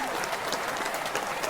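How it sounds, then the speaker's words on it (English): A studio audience applauds a guest's arrival on a talk show, a steady dense patter of many hands clapping at moderate volume, continuing evenly without a break. "There's the applause."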